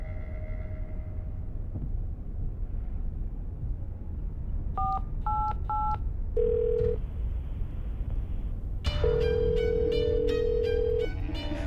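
Telephone keypad tones beep in a video game, first a few spaced presses and then a quicker run of dialing, played clearly over a quiet background.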